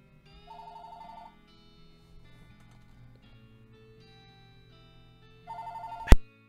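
A telephone rings twice in short electronic trills several seconds apart over quiet background music, and a sharp loud click ends the second ring.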